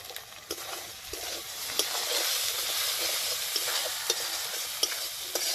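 Chilli powder and ground spice paste sautéing in hot oil for a village-style chicken kanti, with a steady close sizzle broken by scattered clicks and scrapes of stirring, and no voices.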